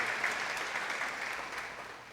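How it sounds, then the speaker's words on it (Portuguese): A church congregation at a worship service applauds, a steady, moderately distant wash of clapping that slowly tapers off, with no talk over it. "Dá um aplauso a Jesus aí, vai."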